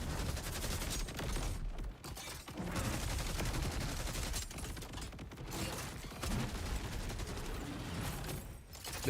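Gunfire from a Borderlands gun, rapid sustained bursts forming a dense, rattling stream with brief gaps between volleys, loud and continuous with no speech.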